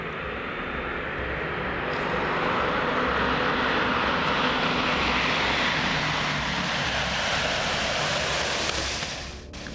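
A small propeller plane flies low over an outdoor party in Sinaloa, Mexico, its steady engine drone swelling louder and closer, then cutting off abruptly at the end.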